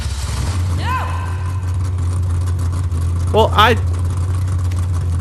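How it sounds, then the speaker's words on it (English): An upgraded car engine idles in the Mad Max video game with a steady, deep low rumble that holds throughout, while someone speaks briefly and a couple of short rising whistling tones cut through above it. "I'm about to upgrade the heck out of that engine."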